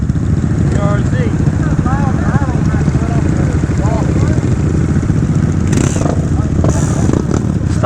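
A Honda Grom motorcycle idles steadily close by while warming up, a continuous low engine rumble, with people talking over it and a couple of brief rattles near the end.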